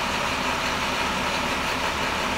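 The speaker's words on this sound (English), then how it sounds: "Our needles are currently moving upward, building air, so our compressor is obviously on to build air." A truck's air brake compressor runs steadily during a cutout pressure test, building air in the system: a constant low engine hum with a broad, even hiss across the whole clip, no voices.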